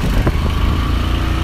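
A John Deere tractor engine runs close by with a steady, loud low rumble across the whole moment, and no talk can be heard over it.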